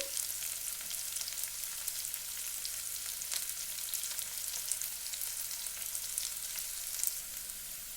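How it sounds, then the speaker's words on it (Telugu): Tempering spices frying in oil for a spinach and potato curry, a steady fine crackling sizzle with scattered pops throughout, close and fairly quiet, with no talk. "పోపు వేగాలి, బాగా మంచిగా వేగితేనే బాగుంటుంది."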